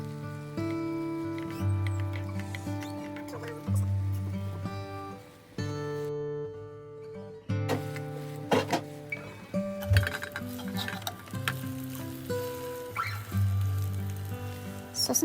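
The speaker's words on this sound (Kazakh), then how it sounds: "Сосын видеодағыдай екі жағында қызартып, кішкене қуырамыз." An egg and sausage wrap with cheese browning on both sides in a frying pan, giving a soft steady sizzle and crackle beneath prominent background music with sustained tones.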